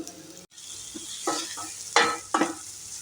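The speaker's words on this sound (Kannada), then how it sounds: "ಇವಾಗ ಮಿಕ್ಸ್ ಮಾಡ್ಕೊತಾ ಇದ್ದೀನಿ ನೀಟಾಗೆಲ್ಲ." Fried radish pods stirred into masala in a pan for a North Karnataka curry: a spoon scrapes and clatters in several strokes over a soft, steady sizzle.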